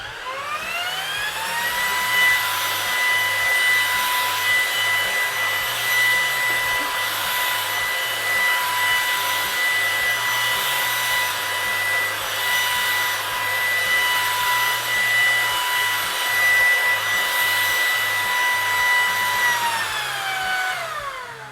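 Ryobi 18V ONE+ brushless stick vacuum cleaner running on medium carpet: a loud steady motor whine that spins up at the start, holds with slight rhythmic variation, then winds down at the end.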